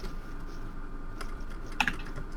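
Soft, quick keystrokes on a computer keyboard, a light scattered patter close by, with a few sharper clicks near the end and no one speaking.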